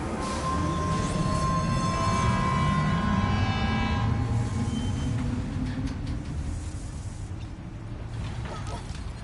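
A monorail train runs in the video game Death Stranding 2, giving a steady, loud rolling rumble with a high tonal whine that fades after a few seconds.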